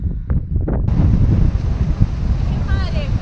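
On the Salento coast, a rough Adriatic sea churns under strong wind buffeting the microphone, with a brief rumble of surf and gusts before the noise settles into a steady roar.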